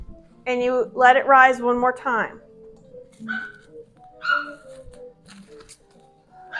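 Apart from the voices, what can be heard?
puppy barking in the background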